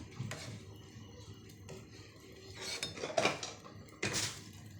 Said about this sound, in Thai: ตักน้ำที่มันเป็นฟองๆออก ไม่เอาฟอง